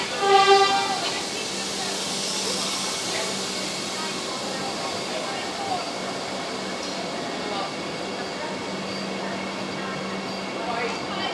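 A fully air-conditioned Vande Bharat Express of Indian Railways, heard as a steady rail rumble and hiss with an air-conditioning drone throughout, a louder burst at the start and tonal squeals early on.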